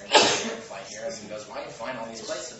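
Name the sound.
sneeze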